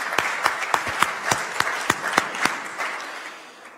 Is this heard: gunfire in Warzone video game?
no